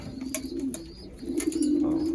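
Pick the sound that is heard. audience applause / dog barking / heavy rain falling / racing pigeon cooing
racing pigeon cooing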